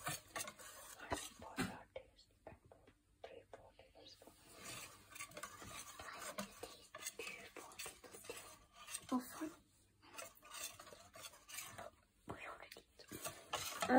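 A utensil stirs pancake batter mixed with yogurt in a bowl, repeated scraping and clinking strokes that run irregularly throughout at close range, with a voice speaking over parts of it.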